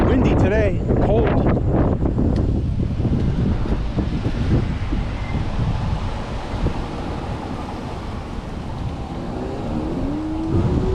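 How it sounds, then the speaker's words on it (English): Strong gusting wind buffets an outdoor microphone on a cold day, a loud continuous low rumble with passing traffic or engine noise mixed in and brief pitched whines. "It's windy today, cold."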